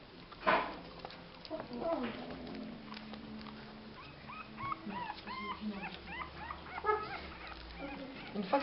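Young puppies make soft, high whimpers and little yips, scattered through the scene and growing more frequent toward the end, with a low rumble and some background noise underneath.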